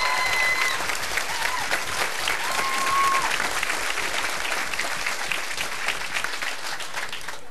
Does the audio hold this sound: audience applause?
yes